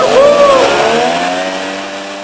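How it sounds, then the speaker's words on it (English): A leaf blower drives a homemade hovercraft built from plywood with a small skirt, producing a loud, steady motor whine with a rising then falling pitch sweep early on before settling into a sustained drone. "So that's just a leaf blower sticking into a hole in the bottom of a piece of plywood with a small skirt attached to the bottom."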